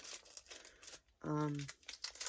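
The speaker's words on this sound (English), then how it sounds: "Next up, we're going to open up the cards and see if I got anything special." Wrapped pack of trading cards being torn open, with a short burst of crinkling and tearing wrapper, close and fairly quiet amid light background noise.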